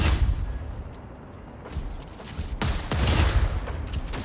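Mech Arena video game combat: dense bursts of gunfire and booming explosions, loud and close, with sharp cracks and heavy blasts layered in a continuous barrage.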